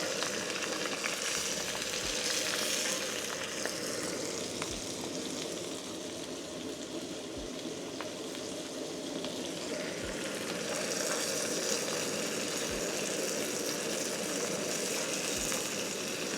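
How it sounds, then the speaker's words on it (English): Steady bubbling and sizzling from a pot of water on the heat, a continuous rolling boil with occasional soft pops, no talking. "That's boiling."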